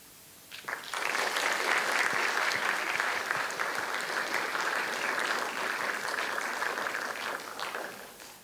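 Applause from a poetry slam audience after a poem: clapping swells in quickly, stays full and even for several seconds, then tapers off near the end, heard alone without voices.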